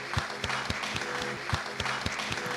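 Studio audience at a televised music talent show applauding a contestant, a short burst of dense, moderately loud clapping with a soft crowd murmur underneath.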